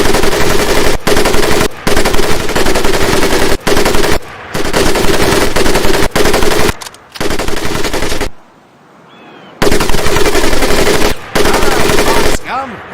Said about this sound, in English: Now here we have my personal favorite, the M1919A430 caliber machine gun.